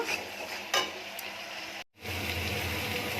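Spices with turmeric and Kashmiri chilli sautéing in oil in a pan for an Indian curry, a steady close sizzle with stirring scrapes and a brief break in the middle.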